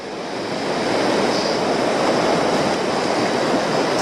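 River water pours over a drop into a churning stopper, a steady, dense, full-bodied roar that stays loud and unbroken throughout, with no voices.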